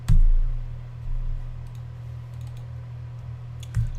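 C# code being typed on a computer keyboard for a while-loop exercise: scattered soft key clicks over a steady low hum, with louder thumps at the start and end; no one speaks.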